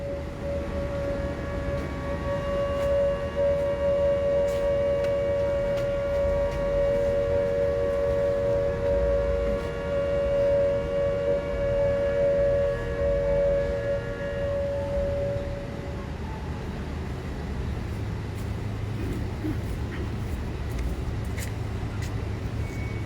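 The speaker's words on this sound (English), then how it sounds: "After there was sounded an all clear siren." An all-clear civil defense siren sounds at a Hiroshima observance in Burnside Park, Providence, Rhode Island, holding a long steady wail for about fifteen seconds over outdoor traffic rumble before fading out.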